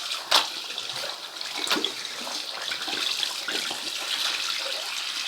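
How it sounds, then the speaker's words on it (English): Tap water runs steadily while soap is rinsed out of a hat, a continuous close-up splash and gush with a few brief louder sloshes. "So I'm just rinsing the soap out."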